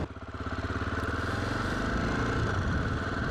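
A 2001 Aprilia Pegaso 650 motorcycle engine runs near about 3000 rpm with a heavy, rhythmic knocking pulse, steady and close, with no voices.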